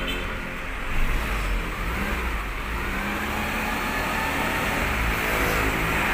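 A 1994 Suzuki Katana GX motorcycle engine runs smoothly at a steady idle with a brief rev, a dense mid-range drone heard close with no talk.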